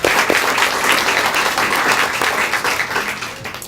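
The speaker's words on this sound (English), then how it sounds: "So a round of applause to all the people that put this together." Dense, loud applause from an audience at a Temecula Student of the Year event, a continuous wash of many hands clapping together close by and holding steady throughout.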